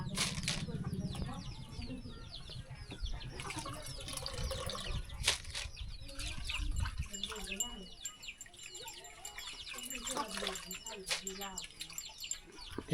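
Chickens clucking and chirping nearby in a rural Thai setting, intermittent calls scattered over a busy background with people talking and some water-like noise.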